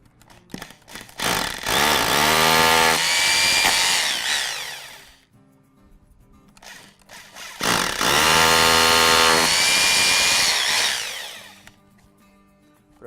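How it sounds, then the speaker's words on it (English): A hammer drill with a 1/4 inch bit bores two holes into a wall while mounting a transformer: two loud, harsh grinding bursts of about four seconds each, separated by a short quiet pause. "Now we take our hammer drill, it's a 1/4 inch size bit."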